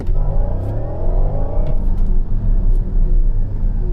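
A new Porsche Cayenne EV accelerating hard, a loud, close electric drive whine rising steadily in pitch over heavy low road rumble, with no talking.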